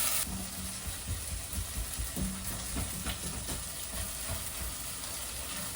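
Seasoning for a lasagna bolognese fries in a pan, giving a steady close sizzle and crackle with faint scraping and stirring noises underneath throughout.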